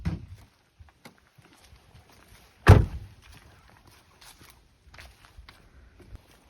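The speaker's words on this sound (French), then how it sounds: "Je vais vous ouvrir le capot moteur." A car's engine bonnet, on a V6 HDi model, is popped open with a single sharp thunk in the middle, surrounded by faint handling clicks and light shuffling.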